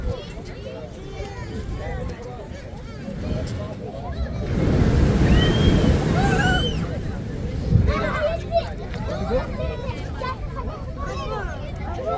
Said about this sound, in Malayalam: തിരമാല ആഞ്ഞടിക്കുമ്പോൾ ഇതാ ഈ ഹോളിക്കൂടി വെള്ളം ഇങ്ങനെ വരും